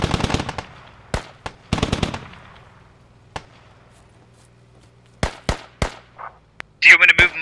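Rapid bursts of automatic gunfire and sharp single shots ring out in the military shooter game Squad, some close and loud, others spaced apart, with radio chatter and talk in between.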